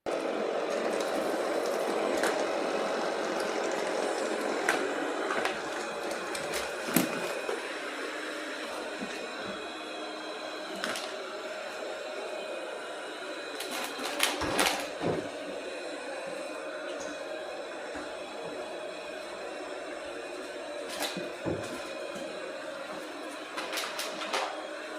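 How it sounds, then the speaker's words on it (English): A budget ONSON J10c robot vacuum runs on max power, giving a steady, moderately loud whir with broadband hiss and scattered clicks and bumps as it moves across the floor, with no talking. "I did find that this robot vacuum is fairly quiet, even on its max power mode"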